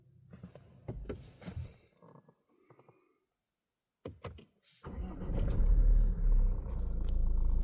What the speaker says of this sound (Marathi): ते बघा गाडी स्टार्ट करूया